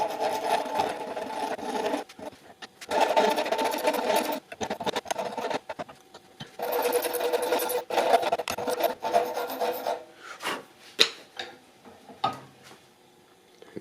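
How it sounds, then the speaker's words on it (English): Metal file rasping across the cut end of a screw clamped in a vise, coming in repeated bursts of strokes with short pauses between, fairly close and loud, with no talk. "I'm just going to file down the sharp edges on the end"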